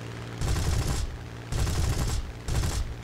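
Spitfire Mk.Vb guns in War Thunder fire in three loud sustained bursts, each roaring volley lasting around half a second, separated by short gaps.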